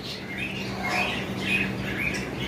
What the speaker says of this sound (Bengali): এখানে একটা পেয়ার ইংলিশ বাজিগর রয়েছে